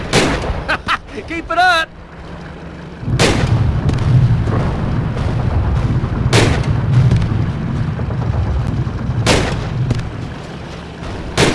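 Gunfire in the World War II shooter Call of Duty: Roads To Victory rings out as several loud, spaced rifle shots with booming echoes over battlefield ambience, while a voice gives brief encouragement.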